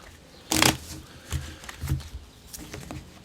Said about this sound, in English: I guess you're supposed to shuffle it after.